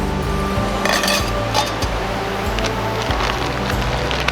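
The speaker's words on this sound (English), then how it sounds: "I'm gonna go ahead and get my bushcraft little grill out." Metallic clinks and rattles as a small metal bushcraft camp grill is handled and assembled up close on a winter camping trip, with a low rumble of wind underneath.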